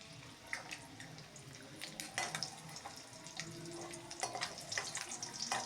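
Eggs fry in oil with a soft, steady crackle and hiss close by, dotted with small pops and faint clinks, fairly quiet and without speech.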